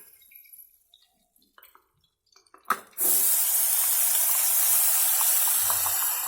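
Ground masala paste hits hot oil already holding cumin and curry leaves for a Marathi brinjal dish, bursting into a loud, sustained sizzle after a few quiet clinks, close and steady to the end.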